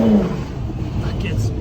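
VW Golf GTI Edition 30 accelerating hard from a launch, a loud roaring engine heard from inside the car, with brief speech layered over it.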